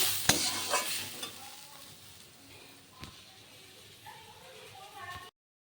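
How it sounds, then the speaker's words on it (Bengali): Potatoes frying in a pan, stirred with a few sharp scrapes and clinks over a low, steady sizzle, with faint kitchen noise in the background. "আলুটা ভাজছি, এবার নুন হলুদ দেবো।"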